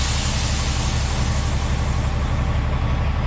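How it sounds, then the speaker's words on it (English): A coal truck tractor idles with a steady, loud rumble while its air trailer brake is set, the continuous engine drone filling the whole moment without any distinct separate hiss. "So I'm gonna set my trailer brake."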